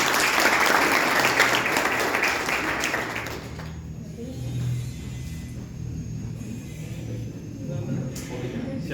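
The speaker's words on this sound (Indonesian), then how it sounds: "Tepuk tangan dulu lah." An audience claps loudly for a few seconds, then the applause drops away into a low rumbling room tone.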